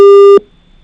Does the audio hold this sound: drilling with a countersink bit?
no